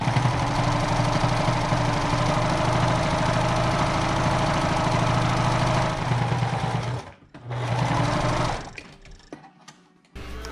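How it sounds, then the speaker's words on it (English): A sewing machine stitches a seam on a homemade fabric face mask, giving a steady, close mechanical whir that runs for about seven seconds, stops briefly, then resumes before cutting out. "Now you need to go ahead and sew up the other side. Make a nice seam."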